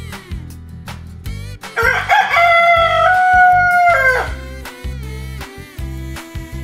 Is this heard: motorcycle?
no